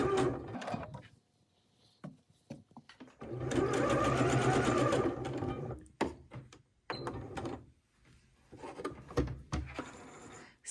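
Sewing machine running long rows of gathering stitches on fabric for a cardigan, a steady mechanical whir for a few seconds between short starts, stops and soft handling clatter, up close.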